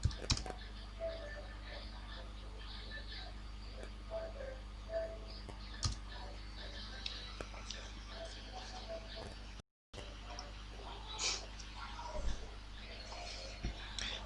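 Computer keyboard being typed on in short, quiet bursts of clicks, with sparse louder taps spread across a faint background hum.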